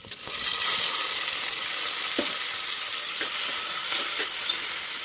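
Tomatoes sizzling in a pan with green chillies, a steady close hiss of frying with a few soft stirring knocks and no talking.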